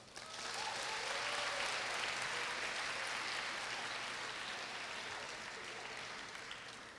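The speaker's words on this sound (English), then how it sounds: "Let's give each other a big round of applause." Students at a Korea University 2018 international summer campus graduation ceremony break into sustained applause, a dense wash of clapping from a large hall crowd that holds steady for several seconds before slowly tapering.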